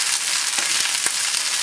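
Broccoli frying in a pan over moderate to high heat gives a steady bright sizzle with a few soft stirring knocks, close and continuous.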